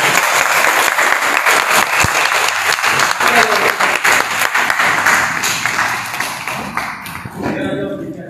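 Audience applause at a police press event in Darjeeling, dense steady hand clapping from a crowd lasting several seconds, loud and close, thinning toward the end.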